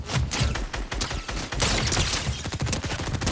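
Dense gunfire in a Fortnite match, loud overlapping bursts and shots rattling almost continuously for a few seconds, close and harsh, with no talking.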